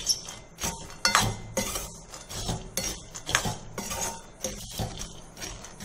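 Spiced peanuts with chili powder and masala are fried and stirred in a pan, with a metal spoon clinking and scraping in an uneven rhythm, close by and moderately quiet.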